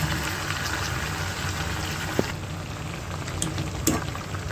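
Hot water poured into a pan of cooked-down chicken curry bubbles and hisses in a steady, close, continuous wash, with a couple of brief knocks near the end.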